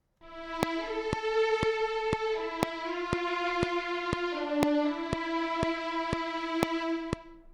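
A smooth legato string line from Cinematic Studio Strings, played without timing compensation, glides between sustained notes with late attacks, while a steady metronome click ticks evenly underneath.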